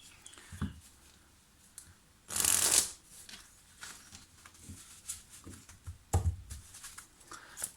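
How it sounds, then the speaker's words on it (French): Oracle cards being shuffled for a love-reading card draw: a loud riffling burst near the middle, with softer card handling, taps and shuffles before and after, close and with no talking. "je vais me concentrer sur votre demande pendant que je prépare votre tirage"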